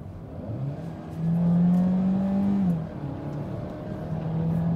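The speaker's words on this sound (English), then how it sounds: "when I'm hammering it all through, then the combustion engine also gets activated" A 2020 Peugeot 3008 Hybrid4 PHEV AWD, 300 hp with e-EAT8 gearbox, accelerating hard: a rising engine and electric-motor whir swells loudly, holds a strained drone, then drops as it shifts and climbs again, heard from inside the cabin.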